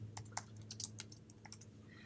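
Keys clack on a computer keyboard, soft and close, in a short burst of evenly spaced presses over a low steady hum, with no voices.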